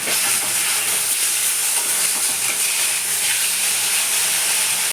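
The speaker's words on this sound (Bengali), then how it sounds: "আমি মাছটা উল্টে দিলাম" Pomfret fish in a pan for a spicy Bengali jhal hisses loudly and steadily just after being flipped, a dense, close, unbroken sizzle with no talking.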